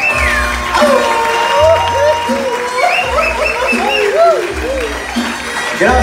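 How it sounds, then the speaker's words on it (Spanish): Audience clapping fills a live Christian worship concert in Puebla, Mexico, a steady loud applause under a singer's voice and instruments. "Fuerte el aplauso a ese Dios."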